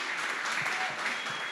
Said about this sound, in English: We were going to clap at the end